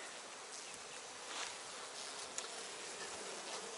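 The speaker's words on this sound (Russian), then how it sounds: "Пчелок." Honeybees hum in a steady, dense drone from an opened hive, close and continuous, with faint rustles and no talk.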